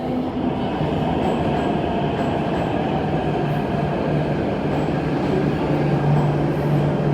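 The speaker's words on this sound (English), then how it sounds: "on the Q train service to Kennedy Town" An MTR Island Line metro train on the Q service runs at Tai Koo Station, a loud steady rumble of wheels and motors throughout with a faint rising whine.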